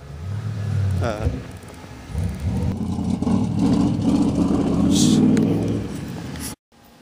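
A 13 hp off-road kart engine sputters, fires up and revs in uneven bursts with a rough mid-low drone, then cuts off abruptly near the end, with someone speaking briefly over it.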